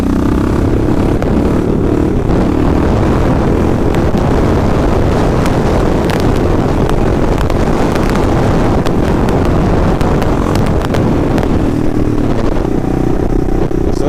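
A Kawasaki KLR650 motorcycle revs hard for a fourth gear wheelie, a loud, sustained engine roar heavily mixed with wind blasting across the microphone throughout.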